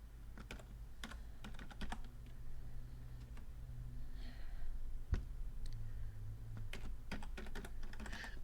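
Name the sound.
typing on a computer keyboard, pressing the tab key in Word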